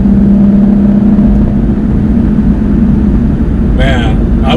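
An Alfa Romeo 4C sports car cruises with a steady low engine drone and road noise, its tone holding even throughout, while a person talks over it.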